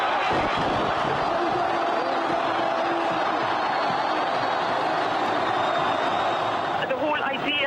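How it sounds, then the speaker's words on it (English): A large crowd in Egypt celebrates Hosni Mubarak's departure, a dense continuous roar of many voices shouting and cheering, loud and unbroken throughout. "Listen to that crowd."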